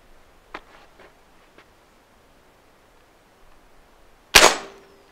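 A Seneca Double Shot double-barrel air shotgun fires one sharp, loud blast near its end with a short decaying tail, after a few faint clicks and handling noises in near silence.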